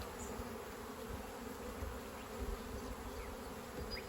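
A sparse colony of honey bees drones at an open hive, a faint, continuous buzz lasting several seconds with no voices.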